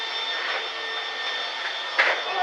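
A vacuum cleaner runs steadily on a balcony floor, a continuous broadband whine and rush holding level from start to finish, with a brief louder bump near the end.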